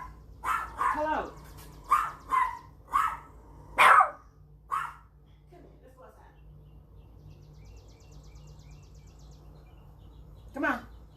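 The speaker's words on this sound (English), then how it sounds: "He's barking at the guy who's cutting my yard." A dog barks at a man mowing the yard in a quick burst of several sharp woofs, then goes quiet before one last bark; a low steady hum runs underneath.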